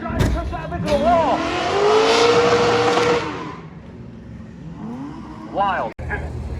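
A V8 BMW drift car at a drift competition at Raceway Park, its engine revving hard and rising in pitch, then easing off before another sharp rev, with an announcer talking over it.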